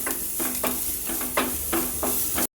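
Onions being sautéed in a pan for a tomato kurma, a steady sizzle broken by rhythmic stirring scrapes about twice a second, close, ending in a brief cut to silence.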